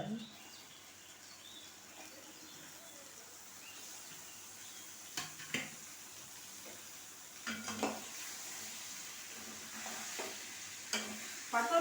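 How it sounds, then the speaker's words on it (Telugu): Chicken 65 fries and sizzles steadily in a pan on a home stove. A utensil stirs it with scraping strokes and occasional metallic clinks against the pan, and a voice speaks faintly in the background. "చికెన్ వేస్తున్నా చికెన్ సిక్స్టీ ఫైవ్"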